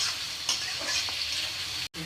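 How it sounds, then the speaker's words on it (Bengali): Onions frying in hot oil for a duck meat curry give a steady, close sizzle with a soft stirring scrape midway and a brief cut-out near the end; no one speaks. "তো পেঁয়াজগুলো এখন ভেজে নেব।"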